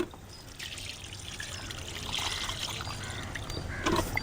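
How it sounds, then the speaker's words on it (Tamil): Water poured onto freshly sown seeds in a rooftop garden bed, a gentle trickling and splashing that builds slightly toward the end, fairly close and alone without speech. "முத போட்ட விதைக்கு தான் இப்போ கடைசியாக தண்ணி ஊற்றுறோம்"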